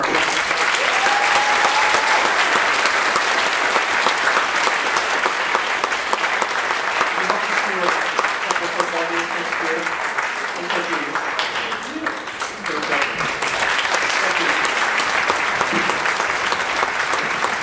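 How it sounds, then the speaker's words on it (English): Sustained, dense applause from a school concert audience of choir, orchestra and band families fills the whole stretch, with faint voices and scattered cheers mixed in. "can we have a round of applause?"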